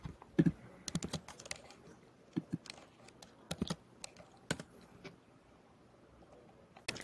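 Computer keyboard typing in a quiet room, irregular bursts of soft key clicks with short pauses, nearby and alone with no talking.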